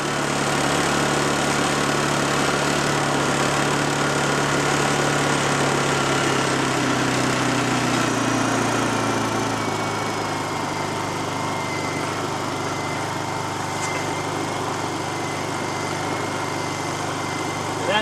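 A small generator engine with a worn carburetor runs steadily at a loud, close, continuous drone, its pitch sagging slightly partway through, with no talking over it.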